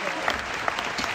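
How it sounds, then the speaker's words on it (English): Steady applause from a crowd at a gala event, a brief continuous wash of clapping at moderate level with no break. "A round of applause to Angus Robertson"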